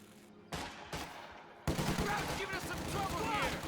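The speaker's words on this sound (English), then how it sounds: "Volley fire being used here" Volley fire in the Company of Heroes 2 real-time strategy game, a few sharp rifle cracks followed by a dense stretch of overlapping gunfire and battle noise, with a commentator talking over it.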